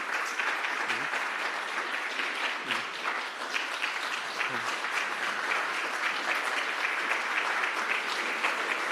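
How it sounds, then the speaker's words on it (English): A conference audience applauds steadily and loudly, a dense wash of clapping that holds at full strength for the whole stretch with no voices over it. "Give them a great applause."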